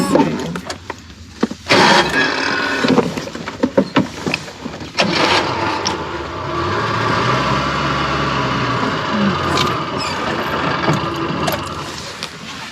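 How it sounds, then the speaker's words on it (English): Safari jeep rattling slowly along a forest track in Kaziranga: a low engine drone with intermittent clanks and knocks from the bodywork, rising into a steadier hum partway through, moderately loud and fairly close. "The jeep rattled slowly along the track, engine slow"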